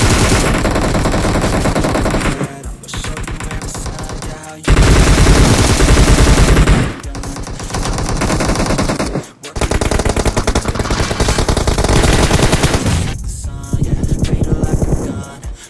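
Automatic weapon fire in the battle royale game PUBG, loud sustained bursts of rapid gunshots filling most of the stretch, broken by a few short gaps, with a faint voice now and then underneath.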